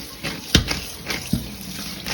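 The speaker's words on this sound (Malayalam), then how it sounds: "ഇത് ഊറ്റി അതിന് ശേഷം അപ്പം തന്നെ ഇത്തിരി പച്ചവെള്ളം ഒഴിക്കുക." Cooked food for a diet snack being drained, then cold water poured over it in a kitchen: splashy pours and trickling water with a couple of sharp clunks, close and without talk.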